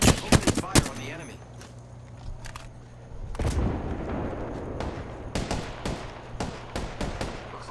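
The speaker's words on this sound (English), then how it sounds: "Target spotted. Opening fire on the enemy." Video game gunfire at the enemy: sharp rapid bursts of shots crack out at the start, a heavy blast follows, then more clustered automatic shots near the end, with faint voices between.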